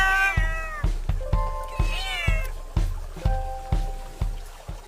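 An agitated cat lets out a series of about eight drawn-out, wavering meows and yowls close by, each cry preceded by a sharp knock or thump.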